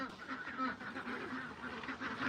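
Farm ducks quack in a busy, overlapping cluster at moderate distance, a continuous chattering run of calls with a goose-like honk or two mixed in.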